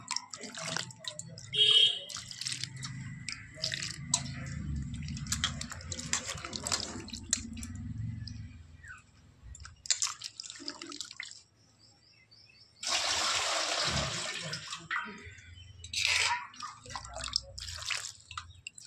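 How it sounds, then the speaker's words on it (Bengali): Cabbage being washed under a running kitchen tap, with water streaming and dripping in bursts, including a louder steady gush partway through, close by and without speech. "এবার আমি বাঁধাকপিটা ধুয়ে নেব একই সাথে"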